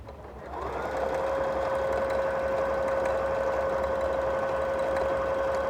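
A sewing machine runs steadily, stitching a wide, long ladder stitch on a quilted postcard, with a continuous even hum that starts after a brief moment and holds at constant speed, close and clear.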